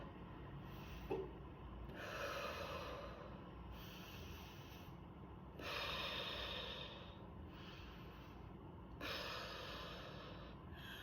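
Slow diaphragmatic breathing for easing heartburn: the belly fills on each deep inhale and empties on the exhale. Soft, airy breaths rise and fall in a steady rhythm, close and alone, with no talking.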